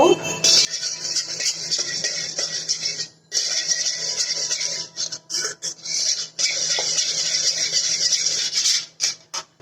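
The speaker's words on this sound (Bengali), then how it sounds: "আমি দুধের সাথে ডিমটা ভালো করে মিশিয়ে নিব" A utensil scrapes and clinks steadily against a bowl while egg is stirred into milk for a cake, with brief pauses in the rhythmic stirring.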